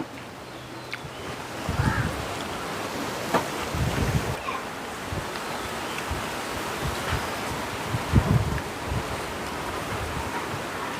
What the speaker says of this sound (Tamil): காற்று காலம் முடிஞ்சுதோ ஆனால் இப்போ காற்று அடிக்குது